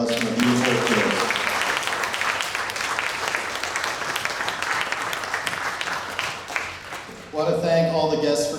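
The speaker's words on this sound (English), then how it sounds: "So let's have a round of applause for the beautiful girls." Wedding guests at a reception give a round of applause for the bridesmaids during the speeches, a full crowd of clapping that fills most of the clip between short stretches of a talking voice at the start and end.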